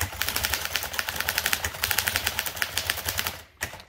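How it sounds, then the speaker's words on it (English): A Dankers typewriter typed at full speed, a rapid, steady run of sharp mechanical key and typebar strikes close up and loud, with a brief pause and one more burst near the end. "I like pushing out all the performance possible from these typewriters."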